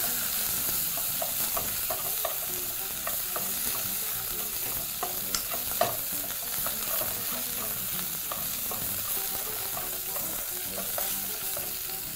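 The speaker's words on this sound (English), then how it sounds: "So we're just going to open the lid once more and toss that again." Goat ribs frying in a smoking pan and being tossed and stirred, a dense continuous sizzle with repeated scraping and clattering from the tossing, close and steady throughout, no speech.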